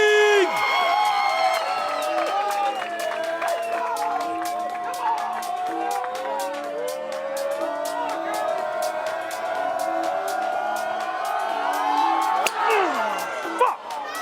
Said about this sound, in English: Let's get the cheering going